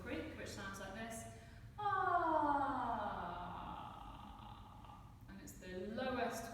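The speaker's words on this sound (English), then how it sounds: "down to a vocal creak, which sounds like this." A voice drops into vocal creak, the lowest vocal register, producing a slow, rattling fry that slides down in pitch over a few seconds, close and quiet, with brief spoken bits before and after.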